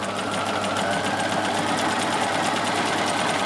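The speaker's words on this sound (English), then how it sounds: "I've got the edge of the foot on the edge of the fabric, and I'm going to stitch on and off like this all the way up" A sewing machine runs steadily and loudly, zigzag-stitching the inner leg seam of cotton boxer shorts with the fabric edge guided along the presser foot. The motor whirs continuously with no pauses.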